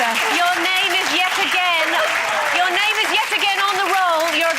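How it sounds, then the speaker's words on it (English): Studio audience clapping on a daytime TV talk show while a voice talks clearly over the steady, loud applause. "a round of applause for Jane McDonald"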